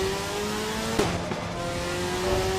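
Race car in the endurance racing sim Le Mans Ultimate at Spa, its engine holding a steady high-pitched drone at speed with a brief sharp gear change, loud and close throughout.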